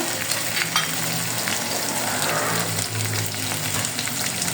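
Ginger paste sizzles steadily in hot oil in a pan while chilli mushroom is being cooked, a constant, close frying hiss with faint stirring and no talk.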